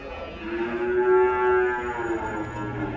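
A cow at the Vaniyambadi cattle market lets out one long, drawn-out moo that swells in the middle and tapers off, fairly close, over faint market background.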